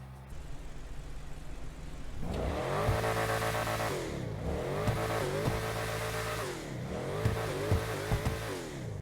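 Pfister Astron SUV engine in GTA Online revving up loudly after a quieter start, with repeated rising and falling acceleration sweeps and no talk over it.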